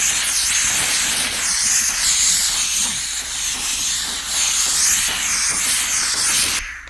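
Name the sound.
VEVOR steam cleaner steaming a stain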